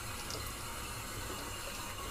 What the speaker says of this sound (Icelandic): skolar af sápuna